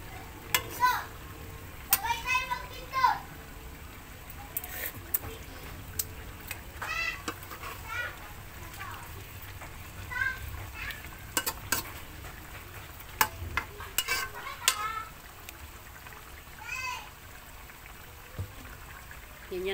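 Tulingan fish cooking with pechay in a pan, a low simmering hiss with intermittent clinks and stirring clatter, while a cat meows several times nearby.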